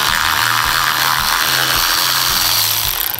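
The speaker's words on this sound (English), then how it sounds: "I'm just gonna hold this up and back this bolt out." A loud power tool whirs close up while backing a bolt out of a built Subaru EJ257 engine during a secondary air pump delete. It is a continuous motor whine with a rapid, pulsing hammering rhythm that fades slightly at the end.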